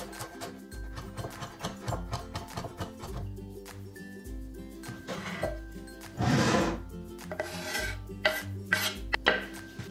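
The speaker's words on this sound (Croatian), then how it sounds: "Sve sastojke izmiješajte, odnosno dobro sjedinite" Minced meat with chopped onion and fresh parsley is worked by hand in a bowl, giving soft squelching and rubbing noises with occasional light knocks against the dish, close and fairly quiet.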